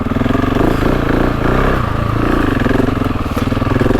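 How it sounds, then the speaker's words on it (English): A GasGas dirt bike engine chuffs steadily in second gear while climbing uphill, its close, loud throb pulsing in a rapid even rhythm throughout. "See, that's second gear and you can hear it chuffing."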